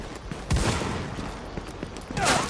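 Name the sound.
gunfire in the video game The Division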